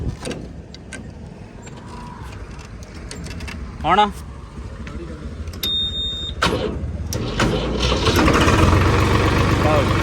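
A tractor engine, checked for over-RPM from its pump, cranks and catches near the midpoint, then rumbles louder into a steady running roar while someone talks over it.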